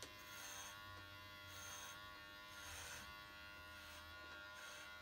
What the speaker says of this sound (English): I'm shaving my hair.